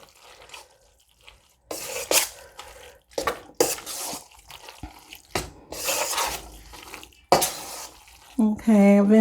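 A spoon stirs macaroni and cheese in a pot, sending out irregular wet scraping and sloshing bursts at close range, broken by pauses, with a voice briefly heard near the end.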